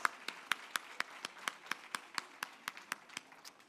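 A group at a medical school white coat ceremony claps in unison with a steady rhythm, about sixteen sharp, evenly spaced claps that are fairly faint, with no talking.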